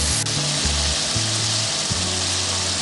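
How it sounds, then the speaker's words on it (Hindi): Chopped onion frying in a pan with bitter gourd (karela) and chicken mince, giving a steady, close, unbroken sizzle with low bubbling under it and no talking. "अब हम प्याज डाल के इसको अच्छे तरीके से फ्राई करेंगे।"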